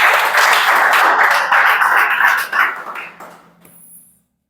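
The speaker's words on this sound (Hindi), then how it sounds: "ताली बजाओ जल्दी से।" A classroom of students claps on request in a brisk, dense burst of applause that holds steady for about three seconds and then thins out and fades.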